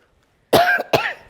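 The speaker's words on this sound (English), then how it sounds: "Oh my goodness, what a big cough." Two loud, close coughs, the first rasping and longer, the second a short follow-up, heard alone after a brief silence.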